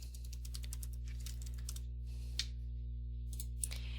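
Password being typed on a computer keyboard during Windows 11 Pro setup: bursts of quick, close key taps with short pauses between them, steady low hum underneath, no talking.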